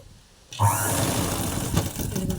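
A sewing machine runs in a steady, loud continuous whir as it stitches cloth for tailoring, starting abruptly after a brief quiet moment and continuing without pause to the end.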